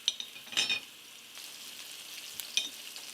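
Canned SpaghettiOs frying in a pan, giving a soft, faint sizzle with a few sharp clinks and scraping stirs early on, then a quieter steady hiss.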